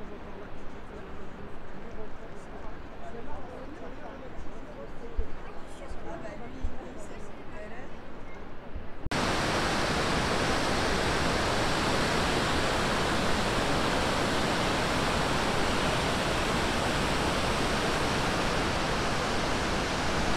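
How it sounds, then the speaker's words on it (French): Distant murmuring with a few voices gives way abruptly to the loud, continuous roar of the nearby 120-metre Ouzoud waterfalls in Morocco, holding steady to the end. "devant les cascades d'Ouzoud qui sont hautes de 120 mètres"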